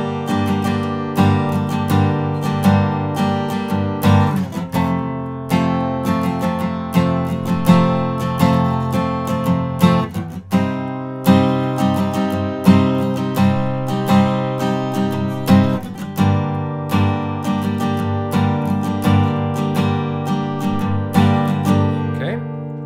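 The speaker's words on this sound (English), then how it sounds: "this is the basic strumming pattern that he uses" Acoustic guitar strummed in a steady down-down pattern, chords changing every two bars, with clear rhythmic accents, close and full, heard alone with no talking.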